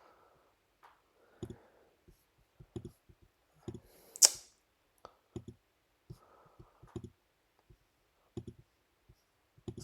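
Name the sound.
computer mouse clicking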